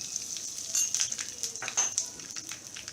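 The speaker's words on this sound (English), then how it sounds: "Once this starts to splutter, we will add in our cumin seeds or jeera" Cumin seeds (jeera) spluttering in hot oil, a close steady sizzle broken by small sharp pops and crackles.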